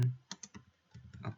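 A command is typed on a computer keyboard, a quick irregular run of close, soft key clicks with brief pauses between them.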